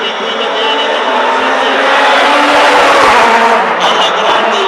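Luca Rossetti's rally car at the Monza Rally Show 2013 Master Show, a loud, close engine roar that rises steadily in pitch as the car accelerates through a change of direction, with a brief shift near the end.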